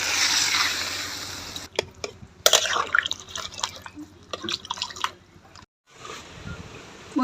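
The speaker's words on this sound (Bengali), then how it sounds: "এবার আমি জল দিয়ে দেবো।" Water is poured into a pan of spiced vegetables, jhinge and potato, for a thin rui fish curry. Close splashing and dripping trickles come in uneven bursts, then stop briefly before resuming.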